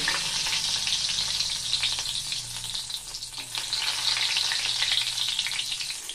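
Chopped garlic sizzles in a small amount of hot oil in a pan over low flame, a steady crackling fry with occasional stirring and scraping, close and continuous without talk.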